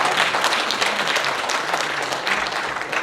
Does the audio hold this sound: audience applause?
yes